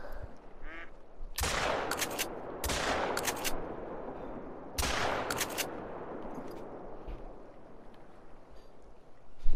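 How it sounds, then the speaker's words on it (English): Sharp gunshots in a duck-hunting video game ring out in three loud bursts with quick follow-up shots, over steady outdoor ambience, with duck quacks faintly heard before and between them. "So we'll just get back to it and keep shooting ducks."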